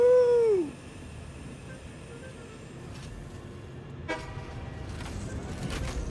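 A train horn in the factory-building game Satisfactory gives one loud toot that slides downward in pitch, then fades into quieter in-game ambience and machinery noise.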